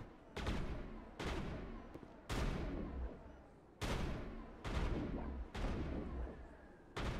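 Heavy weapon fire in the sci-fi shooter game Mass Effect: about eight loud, sharp blasts, each with a long ringing decay, fired at irregular intervals close by.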